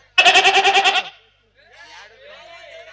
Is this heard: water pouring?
no